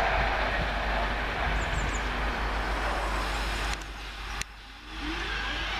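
Class 220 Voyager diesel train 220008 passing on a line toward Bristol Temple Meads, a steady broadband rumble throughout that drops off briefly near the end, heard alone without talk.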